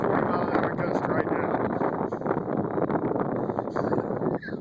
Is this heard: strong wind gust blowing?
yes